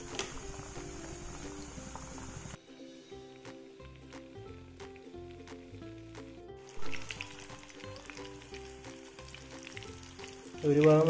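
Chicken sticks frying in a hot pan give a steady close sizzle under background music, which cuts out briefly midway, with a louder burst of crackling near the end.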